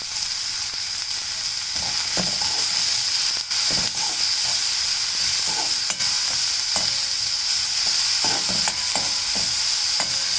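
Chopped onions with a pinch of salt frying in a pan, a loud continuous hiss and sizzle with scattered crackles and light stirring clicks, heard alone for about ten seconds.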